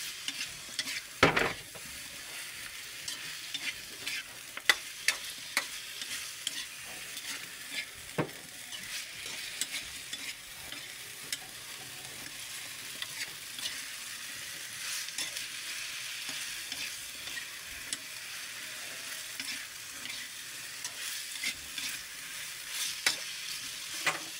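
Potatoes and carrots stir-fry in a pan, a constant close sizzle broken by scattered clicks and spatula scrapes, with a sharp knock near the start and no voices.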